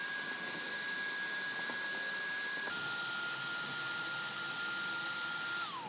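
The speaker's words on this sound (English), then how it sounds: "Let's vacuum it up." Vacuum cleaner running continuously over an outdoor cushion, a loud close whine with a steady high tone that shifts pitch as the nozzle moves and rises at the end.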